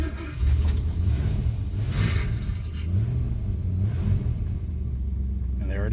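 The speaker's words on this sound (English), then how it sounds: "There goes the starter again" A Mercury Monarch's starter cranks and its engine catches and revs, a loud, close rumble with rising and falling surges, and a voice is heard briefly over it.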